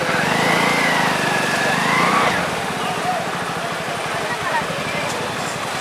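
A tractor carrying the flag chugs past at a bullock cart race in Keezhavalavu, Sivaganga district, its rhythmic engine putter steady and fairly close while people talk over it.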